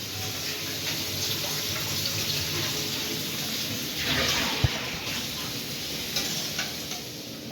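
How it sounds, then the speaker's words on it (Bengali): Onions frying in a pan outdoors at a picnic, a steady close sizzle and hiss running throughout with a few soft clinks, no talking. "এখন আপাতত পেঁয়াজ ভাজা হচ্ছে"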